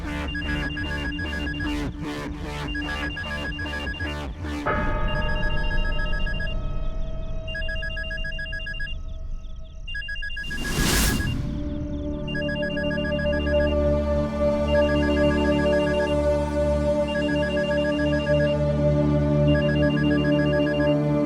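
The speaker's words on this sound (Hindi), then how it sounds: "यहाँ वीराने में किसका फोन बज रहा है?" A telephone rings with a steady trilling bell, loud and repeating over a dense dramatic music score, with a sharp whoosh partway through, set in an isolated deserted place in a Hindi TV serial.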